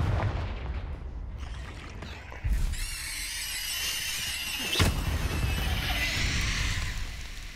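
Confringo fire spell from Hogwarts Legacy, cast twice: a sudden booming blast with a bright whooshing, crackling tail, then a second sharp burst midway, each over a steady rumbling background.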